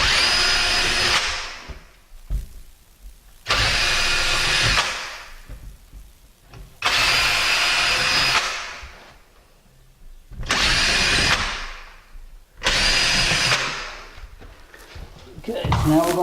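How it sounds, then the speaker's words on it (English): A power drill whines in five separate bursts into a wooden wall stud, each lasting about a second or two, close up, with quiet gaps and occasional background sounds between them. "Just go ahead and drill right into the stud."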